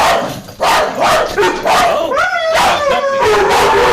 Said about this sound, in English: Well, there goes the dogs.